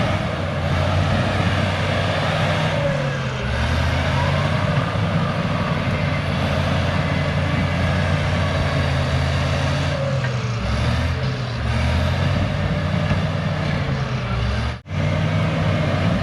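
Cat D6H bulldozer clearing a build site, its diesel engine droning loud and steady with rising and falling pitch as it works, heard up close for a long stretch.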